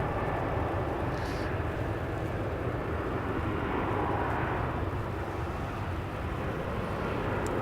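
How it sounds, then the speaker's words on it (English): A Velocity airliner from Brisbane lands at night at Melbourne Airport with heavy thrust reverse, giving a loud, continuous broadband roar that holds steady and close throughout. "Velocity 352 snuck in from Brisbane. Ah, he put the hard reverses on."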